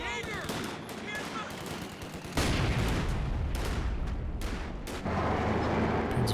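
Machine gun fire during a 2v2 match in the video game Company of Heroes 2, rapid continuous bursts layered with heavier explosions and battle noise, loud and dense throughout, with a commentator talking over it.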